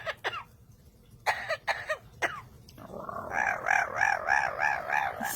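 A parrot imitates human coughing with a few short, sharp bursts near the start, then shifts into a rhythmic series of repeated hoarse, voice-like calls, loud and close against quiet room noise.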